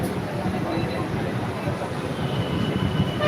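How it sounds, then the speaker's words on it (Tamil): Commuter train pulling out of Perungalathur station in Chennai, a steady broadband rumble of rolling wheels and carriage noise filling the whole clip, with a voice talking over it. "நம்ம வண்டி இப்போது பெருங்குளத்தூர்லேருந்து கிளம்பிடுச்சு."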